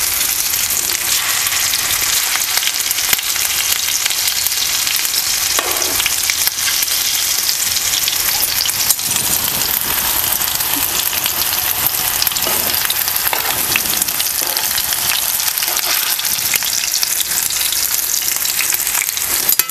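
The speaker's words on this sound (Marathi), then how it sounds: "सगळ्या बाजूने असं आपण पलटी करून आहे ना आपण हे परतून घेऊया म्हणजे चव चांगलं लागेल" Potato and besan snack pieces fry loudly in a pan, making a dense, continuous sizzle with occasional soft knocks as they are flipped, and no voices are heard.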